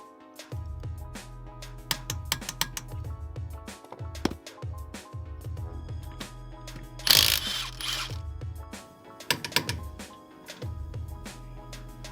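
NISMO forged steel lug nuts are tightened onto Nissan 350Z wheels with a ratchet, producing bursts of close mechanical clicking and whirring in a repeating rhythm, broken by a few brief louder clanks.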